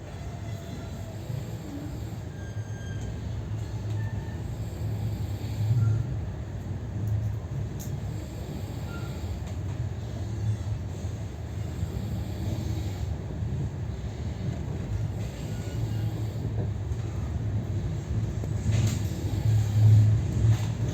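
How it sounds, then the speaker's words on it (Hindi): Rajdhani Special AC 2-tier train pulling out and running on the rails, a steady low rumble and hum heard from inside a carriage, slowly building with faint rattles. "बारह बज के 20 पे हमारी ट्रेन खुल चुकी है बल्लार शाह से, एग्जैक्ट टाइम"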